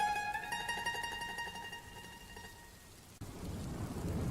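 Drizzling rain in a Bengali cartoon: a soft steady patter and hiss that takes over after a fading tonal musical passage.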